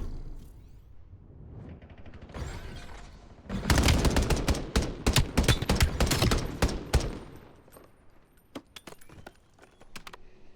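Rapid bursts of gunfire in a competitive video game match erupt in a dense volley, loud and continuous for several seconds, then thin out into scattered single shots and clicks, with no voices over them.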